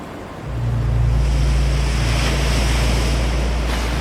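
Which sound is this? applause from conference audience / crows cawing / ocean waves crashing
ocean waves crashing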